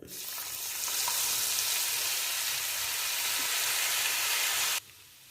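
Vinegar poured into hot, roasted spice powders for mango pickle sets off a loud, steady hissing sizzle that runs for several seconds, then cuts off abruptly into quiet.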